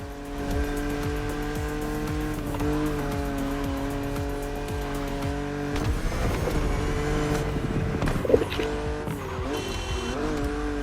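A BMW Z roadster races in the game The Crew Motorfest with a steady engine drone and shifting gears, plus tire squeals and brief skids over about ten seconds.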